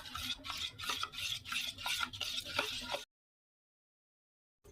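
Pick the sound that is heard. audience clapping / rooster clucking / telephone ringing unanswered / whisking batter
whisking batter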